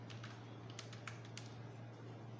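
Computer keyboard keys being pressed while filling in an application form in MS Office, a scattering of light irregular clicks over a steady low electrical hum, fairly quiet and close.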